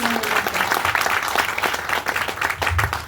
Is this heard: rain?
no